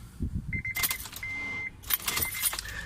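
Car keys jangle and click in an ignition, with electronic chimes sounding in bursts, while the engine never catches; close, quiet interior sounds.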